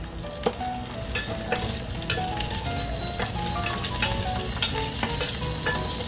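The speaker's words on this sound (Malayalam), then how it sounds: "വെളുത്തുള്ളി ഇവിടെ നന്നായിട്ട് വാടി വന്നിട്ടുണ്ട്" Garlic sizzles and fries steadily in a pan for pickle, with a continuous crackling hiss broken by intermittent scrapes and clinks of stirring, close and fairly loud.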